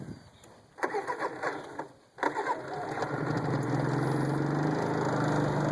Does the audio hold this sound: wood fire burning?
no